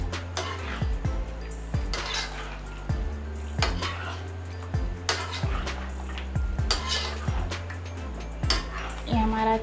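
Chicken biryani mixture with yogurt being stirred in a metal pot, with repeated scraping and clinking of a spoon against the pot in a steady rhythm throughout, close and fairly loud, with no talking.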